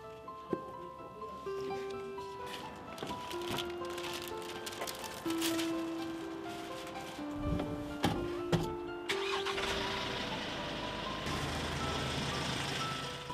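A delivery truck drives and backs up, its reversing beeper sounding in steady repeated tones over a continuous engine drone and road noise, ending in a louder, broader rush.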